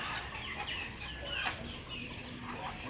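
Ducks moved into a new backyard pen quack and chatter together in a dense, close flock, overlapping calls filling the whole clip without pause.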